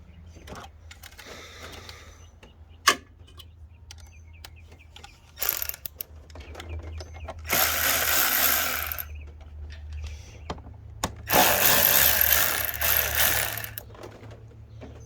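Ratchet loosening an 8mm bolt on the thermostat housing of a 2014 Dodge Challenger with a 5.7L Hemi, two bursts of rapid clicking, the second longer, with scattered clanks of tools between them.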